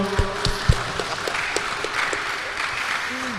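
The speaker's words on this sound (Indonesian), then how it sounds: "Tepuk tangan untuk kita semua dong." Audience applause at a COVID-19 vaccination outreach event, a burst of clapping from a crowd with a few sharp claps standing out, fairly loud and close, continuing for a few seconds.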